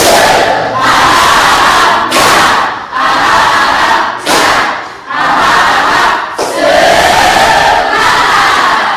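A classroom group of students performs a tepuk semangat clapping chant, loud rhythmic bursts of claps and shouted chanting in four or five phrases separated by brief pauses, close and energetic.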